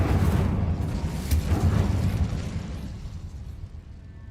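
Incendio fire spell cast in Hogwarts Legacy, a loud burst of whooshing, rumbling flame that flares up at once and then slowly dies away, with no talk over it.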